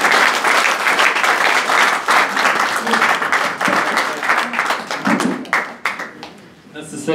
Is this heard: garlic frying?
no